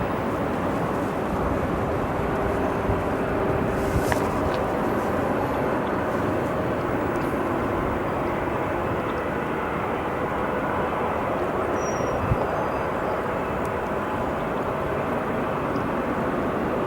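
An Atlas Air jet departs from O'Hare International Airport, its engines spooling up into a steady, loud, broadband roar that holds evenly throughout without pause.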